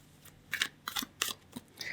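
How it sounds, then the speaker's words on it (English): Tarot cards shuffled by hand in a short series of crisp riffling bursts, close and clear with no voices. "As I'm shuffling the cards, say your name out loud or in your head."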